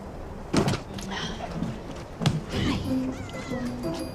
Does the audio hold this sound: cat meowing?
yes